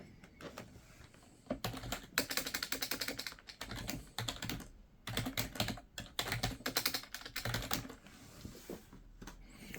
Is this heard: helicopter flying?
no